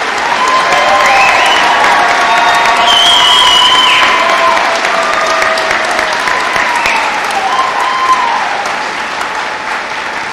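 Large crowd applauding eleven honored students at a high school graduation ceremony, loud continuous clapping with some cheering and whistle-like tones rising and falling over about ten seconds.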